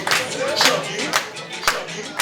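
A crowd at a welcoming event during the Ooni's tour of America claps in loose, scattered bursts, with a voice calling out over the hands.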